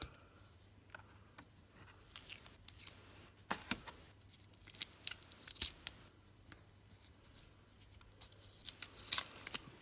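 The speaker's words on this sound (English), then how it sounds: "Let's just peel all this off." Masking tape peeled off a freshly painted RC crawler body, a Traxxas TF2, giving quiet scattered crackles and ripping bursts of varying length over a low steady hum, close by with no voices.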